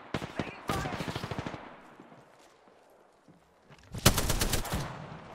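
Gunfire in a video game: rapid bursts of automatic shots, a loud burst at the start and another near the end, separated by quieter rumbling and scattered distant shots.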